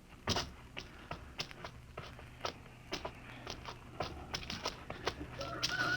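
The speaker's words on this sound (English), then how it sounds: "I could swear that sounded like a rooster." A rooster sound effect in a science fiction radio drama gives repeated clucking calls and short bursts, scattered irregularly over a faint background hush and fairly close, with no talk over it.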